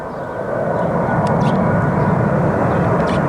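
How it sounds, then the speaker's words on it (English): A passenger airplane passes overhead near a Long Island Rail Road line, its engine roar steady and loud throughout, a broad continuous rumble with no talking over it. "Look at this plane."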